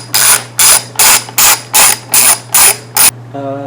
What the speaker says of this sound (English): these are just 3 10mm bolts. Just loosen it and then it should pop right off.